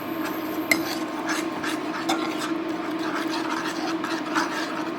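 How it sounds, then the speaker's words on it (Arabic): A small spoon stirs and scrapes inside a container as a home cough remedy is mixed, a continuous close rubbing with faint clicks and a steady hum beneath. "وغادي نخلط"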